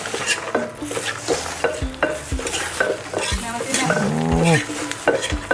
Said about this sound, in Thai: คนให้เข้ากันครับ